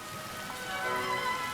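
Rain falls as a sound effect in an audio story, a dense hiss of drops on surfaces rising slightly in loudness over a short stretch, with no voices over it.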